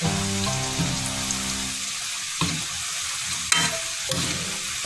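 Flour-coated French fries sizzle steadily in hot oil while being stirred, a constant dense crackle with occasional clinks and scrapes of a utensil, close and loud with no talk.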